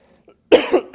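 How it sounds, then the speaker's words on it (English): A single close, loud cough from a man at an awards ceremony podium breaks a brief near-silence, followed by a short rough throat-clearing tail. "Excuse me."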